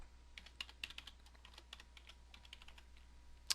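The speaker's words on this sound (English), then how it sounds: "Now I'm going to type in my username." Typing on a computer keyboard to enter a username at a login screen: a quiet run of irregular clicking keystrokes, alone, ending with one sharper, louder key press.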